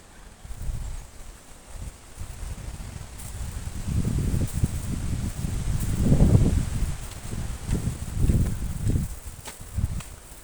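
Wind gusting through leafy foliage outdoors, a steady low rustle that swells into louder, rougher bursts in the middle and latter half, with no voices.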